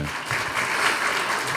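Steady applause from an audience at a public talk, a dense, even burst of clapping lasting a moment without pause.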